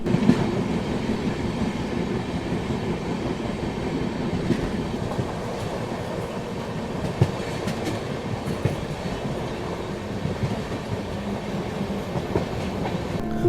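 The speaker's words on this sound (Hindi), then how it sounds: "पर फाइनली काफ़ी देर तक साथ में चलने के बाद गुड्स ट्रेन को हम पीछे छोड़ देते हैं।" Rajdhani Express train running from Patna to New Delhi alongside a goods train: a steady loud rumble of rolling wheels with faint clickety-clack joints, continuous and close throughout.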